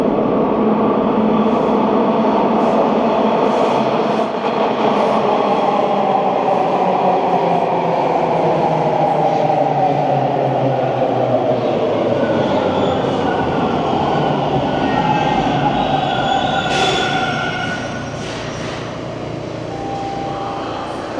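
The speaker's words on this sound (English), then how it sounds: "Let's wait for the train to pull out." Inside a Toronto subway station, a westbound train roars loudly and steadily for about twenty seconds with rumbling wheels and a rising whine, fading somewhat near the end, with no voices.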